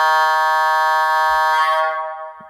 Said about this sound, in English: F2 is our horn,